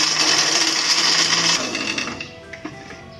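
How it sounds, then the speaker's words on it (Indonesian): A kitchen blender grinding keluak seeds gives a loud, steady high whir that cuts off after about a second and a half. A few light clinks and rattles follow as the blades spin down. "isi dari keluak tadi sudah saya buka dan saya masukkan juga ke dalam blender"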